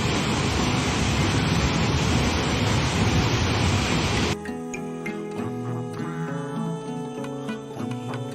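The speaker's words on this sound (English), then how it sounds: "The falls are stunning, and you can feel the power of this 45-foot waterfall." Little River Falls, a 45-foot waterfall in Little River Canyon National Preserve, gives a dense, steady roar of falling water for about four seconds before music abruptly replaces it.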